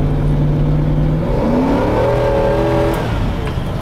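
A GMC Yukon SLT's 5.7-litre 350 V8 roars loud and close while driving, its engine pitch climbing as it revs toward the top of the power band, with no talking.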